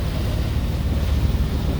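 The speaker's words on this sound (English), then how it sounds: "We got some squalls we're going through." Strong wind from rain squalls hits a sailboat at sea, a loud continuous rushing roar with low buffeting rumble and no break.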